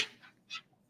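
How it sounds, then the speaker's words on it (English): A dog whimpers softly in a few short, faint whines, close by in a quiet room. "that's my dog right there."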